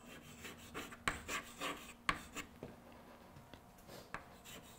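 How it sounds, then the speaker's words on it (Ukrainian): Chalk scratches and taps on a classroom board during a third-grade lesson, making faint, close, irregular strokes with a few sharper knocks and soft rubbing between them. "і ми будемо працювати з вами на дошці. Пишемо з вами речення."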